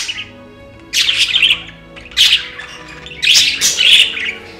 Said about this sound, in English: He was very chirpy and happy budgie.